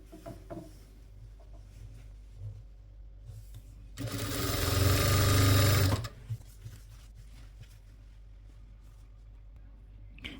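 A sewing machine stitches a child's umbrella skirt in one loud, fast burst of about two seconds, framed by quieter handling clicks and rustles of fabric before and after.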